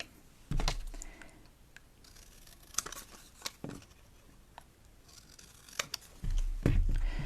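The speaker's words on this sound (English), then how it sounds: "And then I would just use my scissors to snip it down to size." Scissors snip through cardstock for an ice cream themed handmade card, a handful of short sharp cuts scattered close up with quiet rustling of paper between them and no one talking.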